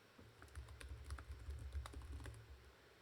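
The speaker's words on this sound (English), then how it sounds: "Trying to type on your keyboard." Quiet computer keyboard typing, a run of irregular light key clicks close by with no talking, over a low background hum.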